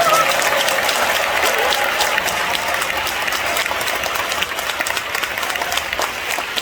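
A large crowd at a prayer rally in a gymnasium gives warm, loud applause for the Gyeonggi pastors, a dense continuous roar of clapping filling the hall.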